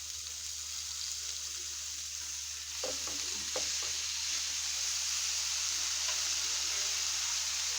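Dried chilies, nigella seeds and amaranth greens hit hot oil for a tempering, a steady soft sizzle with a few brief stirring clatters near the middle, all under a constant background hum.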